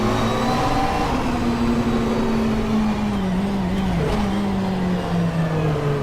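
GT3 race car in rFactor 2 at Bathurst, its engine droning steadily with a pitch that slowly falls as the car eases off the power down a hill, loud and continuous with no talk.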